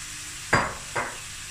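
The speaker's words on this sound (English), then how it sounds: "now I'm gonna add the mince" About a kilo of lean beef mince hitting a hot pan, two distinct bursts of sizzling that flare up and fade, close and fairly quiet.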